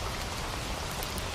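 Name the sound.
rain pattering on a tin roof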